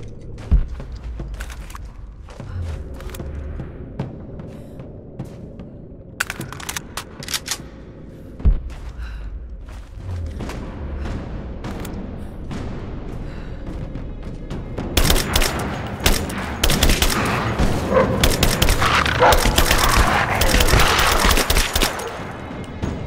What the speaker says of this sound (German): Vielleicht schieße ich einfach hier mit.